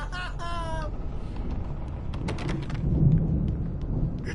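Thunderstorm in the game Alan Wake: rolling thunder rumbles under steady rain noise, swelling louder toward the end, with a brief vocal sound at the start.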